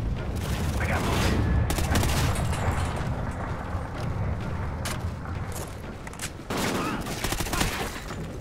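Sustained covering gunfire from a Call of Duty: Ghosts campaign battle, with dense overlapping rifle bursts and booms running throughout at close range, heavier near the end, while voices talk over the fighting.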